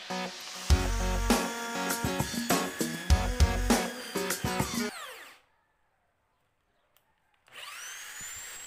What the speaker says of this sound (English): I would always turn to my Bosch GSB550. It's a corded impact drill.